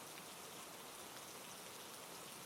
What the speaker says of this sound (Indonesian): hujan mengguyur perumahan sejak siang